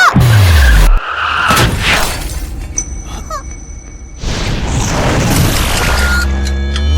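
A car brakes hard and skids, its tires screeching loudly with a falling squeal, followed by heavy booming impacts and rough roaring noise in a dramatic, close sequence.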